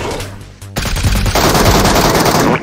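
Rapid automatic gunfire in a shooter video game crackles loud and close, a dense burst of shots after a brief quieter lead-in, with no talk.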